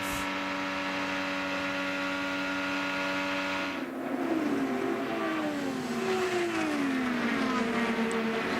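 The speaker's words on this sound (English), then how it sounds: "All you can do is just hear how quick the revs come up once you get in that draft" IndyCar engines at the Indianapolis Motor Speedway during Carburetion Day scream at high revs, a steady droning whine that shifts pitch sharply midway as cars pass and climb in the draft, loud and without voices.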